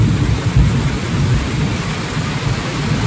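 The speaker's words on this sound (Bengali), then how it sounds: "মানে ভাবো তালি কি পরিমাণে বৃষ্টি হচ্ছে" Heavy rain pours down steadily outdoors, flooding the area around a hand pump, while deep thunder rumbles continuously beneath the dense roar of the downpour.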